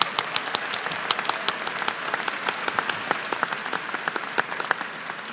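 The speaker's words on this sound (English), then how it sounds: "Could we please give President Sands a round of applause?" Audience at a Virginia Tech event welcoming a new head football coach claps steadily, a dense, even applause heard from a moderate distance with no talking over it.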